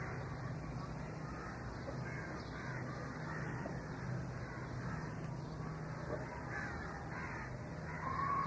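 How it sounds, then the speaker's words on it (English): Crows caw repeatedly in the distance outdoors at a public talk in Bombay, faint calls over steady background noise and low hum. "The freedom to listen to the crows."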